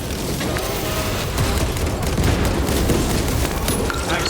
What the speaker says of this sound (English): Releasing frag grenade.